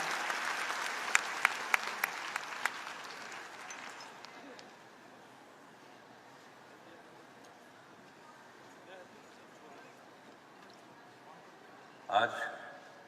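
Applause from an auditorium audience welcoming the Chief Minister at an Earth Day water and greenery awareness event, a loud burst that fades into a long hush before a brief final clatter.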